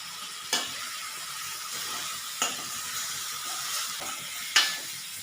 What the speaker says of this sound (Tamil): இனி இந்த சிக்கனையும் போட்டு கொஞ்சமாக மஞ்சள் தூள்